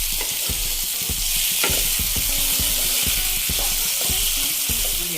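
Pieces of fried eel are stirred into a sizzling curry in a pan, with a continuous close frying hiss broken by repeated scraping strokes of the spoon.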